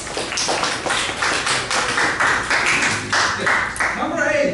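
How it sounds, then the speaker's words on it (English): Classroom applause during a bilingual physics lesson, a brisk burst of many hands clapping close by that keeps going at an even level throughout. "a round of applause for Oliver."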